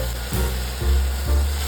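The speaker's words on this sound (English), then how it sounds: "Saute this till the tomatoes are mushy." Chopped tomatoes with ginger garlic paste sauté in a pan for pav bhaji, a steady close sizzle broken by three soft stirring thumps spaced about half a second apart.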